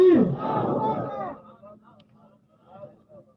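A large crowd at a religious gathering roars back in unison to the takbeer slogan call, a loud surge of voices that fades after about a second, leaving quiet murmuring and distant echoes.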